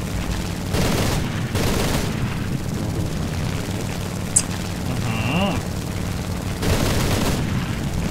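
Tank cannon and gunfire in the War Thunder video game after its 1.43 jets-and-tanks patch: heavy booming shots come in a few spaced bursts over a rumbling engine bed, with a brief whining mechanical tone midway.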